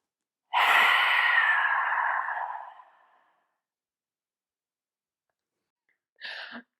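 A single long, loud breath is pushed out during a yoga breathing exercise, an airy rush that fades away over a few seconds, then after a silence a short, softer breath follows.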